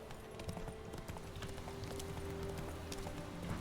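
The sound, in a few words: horse Roach galloping in The Witcher video game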